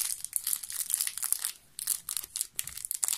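Wrapping paper crinkling and rustling as gifts are opened at home, continuous close crackling with a few brief lulls and no voices.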